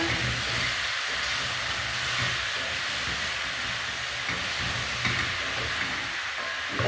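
Chicken pieces frying in a pan until browned for a caldereta, producing a continuous, loud hissing sizzle that stays steady and close from start to finish, with no voices.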